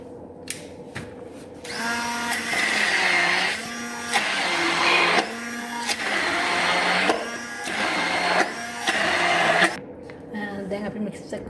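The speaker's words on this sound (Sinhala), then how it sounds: "දැන් අපි මේක බෙන්ඩර් කරගන්න ඕනේ." Garlic paste and curry leaves whirring in an electric blender, several loud motor bursts of a few seconds each with brief pauses between, close and dominant.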